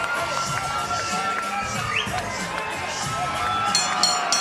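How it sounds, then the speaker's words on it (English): A boxing fight-night crowd cheers and shouts in a steady roar, with scattered whistles and whoops, thick and continuous throughout. "Joe Martinez, this crowd's gonna go crazy when you say his name"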